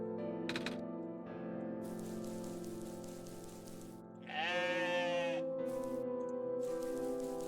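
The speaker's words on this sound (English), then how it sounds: "What a strange goat." A goat bleats in the video game OneShot, one loud wavering cry that rises over a steady patter like rain and a droning game backdrop.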